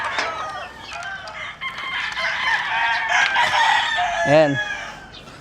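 AEJ broodcocks crow and hens cluck in a gamecock farm yard, with a clear rooster crow near the end over continuous clucking and bird chatter; someone speaks briefly.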